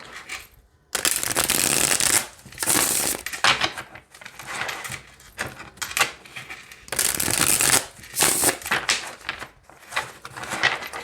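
A deck of tarot cards is shuffled in bursts, each a loud, crisp riffle of stiff cardstock, two longer runs with shorter shuffles between, close up and with no talking.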